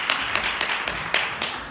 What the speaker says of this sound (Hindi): रेवरेंट मार्शल के लिए ज़ोरदार खुदावंद यीशु मसीह के नाम में ताली बजाई जाए